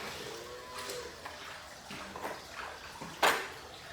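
Hot water splashes into calf feeding buckets in a few short pours, with a louder splash near the end, against faint background noise.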